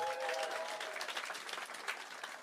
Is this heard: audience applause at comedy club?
yes